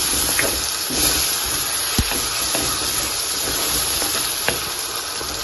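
Curry for a mushroom pepper fry simmers and sizzles in a pan after a cup of water goes in. A steady, close hiss of bubbling and steam holds throughout, with a few faint clinks.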